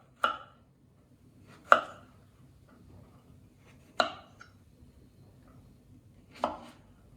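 A knife cuts apples for a homemade apple tart, four separate crisp chops on a board spaced a couple of seconds apart, close and clear against near silence.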